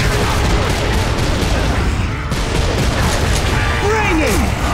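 Dense, continuous gunfire and booming blasts from the video game Gears of War 2 rattle without pause, loud and close, with voices talking over the barrage.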